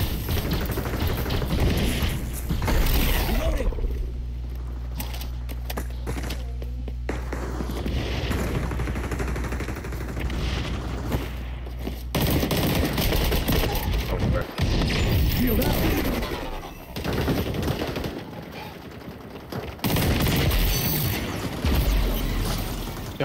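XDefiant shooter match: sustained loud automatic gunfire with dense rattling bursts and booms, near and continuous, with brief lulls and more shooting later.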